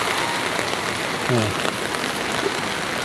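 Heavy typhoon rain and fast-flowing floodwater at a Manila street corner, a dense, steady wash of noise throughout with a brief faint tonal sound midway.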